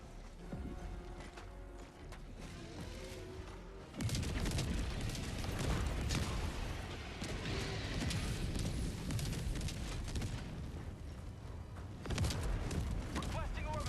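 Orbital strike explosions in the video game Helldivers 2 erupt as heavy, sustained booming rumbles, with a sharp onset and dense low-end blasts continuing loudly, then another surge near the end, while a voice talks over the chaos.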